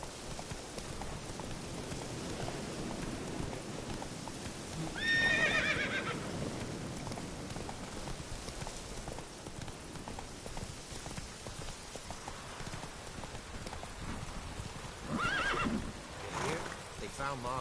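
A horse in The Witcher 3 game gallops with a constant drumming of hooves over a rainy ambience, and two clear neighs ring out partway through and near the end.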